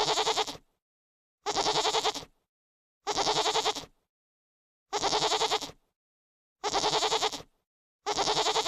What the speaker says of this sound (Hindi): यह है गोट, बकरी।